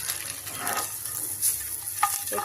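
Eggs fry in hot oil for a Telangana-style onion egg curry, giving a steady close crackling sizzle with a few brighter pops near the end and no talking.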